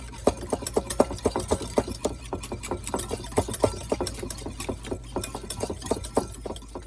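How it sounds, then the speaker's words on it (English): Egg yolks being whisked with sugar in a bowl, a fast steady clicking and tapping of the whisk against the sides, close up over a low background hum. "add about 1 tablespoon of sugar and whisk that in until the yolks lighten in color"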